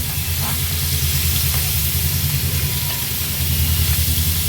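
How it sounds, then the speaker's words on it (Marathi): Steady hissing sizzle of marinated liver frying on a hot griddle, continuous throughout with a low hum beneath and no talking. "हा मॅरिनेट केलेला कलेजी पेठा आपण ह्या तव्यावर घालणार आहोत"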